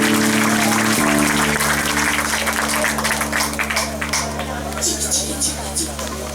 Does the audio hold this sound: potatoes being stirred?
no